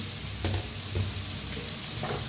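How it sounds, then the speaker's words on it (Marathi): Two large sliced onions and four or five cut green chilies fry in hot oil, giving a steady close sizzle with a few soft stirring scrapes at regular intervals and no talking. "मोठ्या आकाराचे दोन कांदे कापून घेतलेले आहेत तेलात टाकूया हिरवी मिरच्या बी चार पाच कापून घेतले त्या ते बी भाजून घेऊया"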